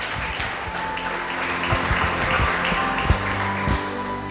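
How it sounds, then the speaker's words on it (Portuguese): A church congregation gives a warm round of applause during a worship service, a steady mass of clapping with some sharper individual claps and a low sustained musical tone underneath. "E dê uma linda salva de palmas ao Rei dos Reis."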